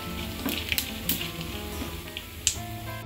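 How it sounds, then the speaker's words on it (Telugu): Cumin seeds sizzling in hot oil for an Andhra hotel-style poori curry: a steady close frying hiss dotted with sharp crackling pops. "అలాగే ఇందులో 1/2 టీ స్పూన్ జీలకర్ర వేసుకోవాలి।"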